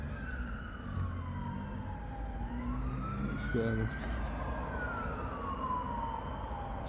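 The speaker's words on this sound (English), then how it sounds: "Another fire engine coming" A fire engine's wailing siren sweeps up and down as it passes nearby on a city street, loud over traffic rumble, while a person speaks briefly.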